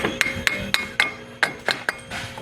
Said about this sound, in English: let me hit the axle